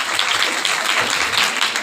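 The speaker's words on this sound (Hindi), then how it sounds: "बच्चे के लिए तालियां चाहिए" A short burst of applause for a child after a quiz answer, steady dense clapping from a crowd lasting under two seconds with no talk over it.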